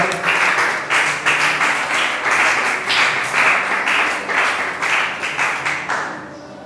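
A church congregation applauding, a dense, loud burst of many hands clapping in waves, steady at first and then thinning out toward the end.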